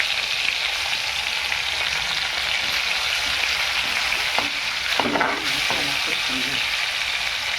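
Tomato and spices fry in hot oil for cauliflower sabzi, a steady loud sizzle throughout with a few clinks and stirring scrapes near the middle.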